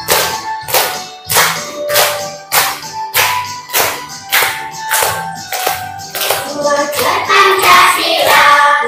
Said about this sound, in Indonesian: Sambil tepuk tangan.